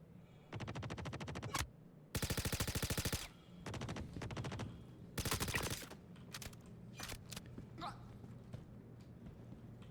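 Automatic weapons fire in the space game Star Citizen, several sharp bursts of rapid shots of varying length, some close and loud, others shorter and further off, with scattered single shots between.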